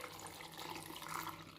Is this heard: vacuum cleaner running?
no